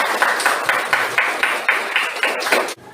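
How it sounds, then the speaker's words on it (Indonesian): A classroom of students claps in a steady, rhythmic pattern, about a dozen even, loud beats in sequence, stopping abruptly at the end. "Tepuk tangan dulu untuk teman-teman"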